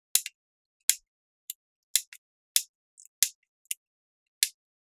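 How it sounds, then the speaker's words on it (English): Side cutters snipping Game Gear cartridge connector pins, a sharp series of about a dozen crisp, bright clicks at an irregular, quick pace, close and isolated against silence. "The pins aren't very stiff to cut, they're nice and easy, so most side cutters will do the job no problem"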